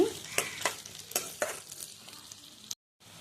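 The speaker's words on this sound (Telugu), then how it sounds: "ఎర్రగా వేయించుకోవాలండి. ఉల్లిపాయలు వేసుకోవాలి, చేసుకోవాలి, కలుపుకోండి." Onions, green chillies and garlic frying in a pan with a utensil stirring through them: a sizzling bed with several sharp scraping strokes up close, ending in a brief silence before the sizzle resumes.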